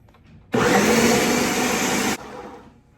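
A blender runs loud and steady for about one and a half seconds while making a green smoothie, then cuts off sharply, leaving the motor's faint fading whir.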